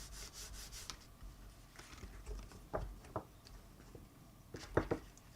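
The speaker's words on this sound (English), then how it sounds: "Burnish that fold." A paper card fold being burnished during papercraft card making, heard as faint, soft rubbing strokes with a few light taps, close by and quiet, with no talking.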